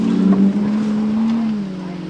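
A Jeep XJ Cherokee engine drones loud and close at steady low revs as it crawls over slippery, wet rocks on a trail, with the pitch sagging slightly toward the end.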